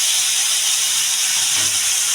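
Tomatoes hit a hot pan for a Chhattisgarhi mushroom sabji, giving a loud, continuous steamy hiss that stays even and close throughout, with no talking over it.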